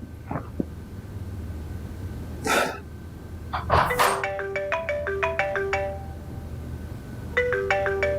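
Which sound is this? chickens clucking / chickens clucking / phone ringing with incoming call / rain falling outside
phone ringing with incoming call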